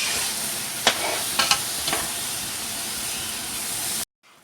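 Carrot halwa with khoya roasting in desi ghee, a continuous hissing sizzle with a few scraping stirs of the spoon against the pan before it cuts off abruptly.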